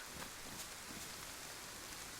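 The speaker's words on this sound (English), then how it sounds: "It's weird that the rain's louder down here" Steady rain pours in DayZ Livonia at night, a dense, even hiss of drops on surfaces that stays constant and fairly loud throughout, with no voices over it.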